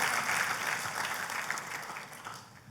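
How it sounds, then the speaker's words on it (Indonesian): Hearty applause rises from a church congregation, a dense, steady roar of many clapping hands that stays strong and then gradually fades over a few seconds. "tepuk tangannya yang paling meriah buat Tuhan kita"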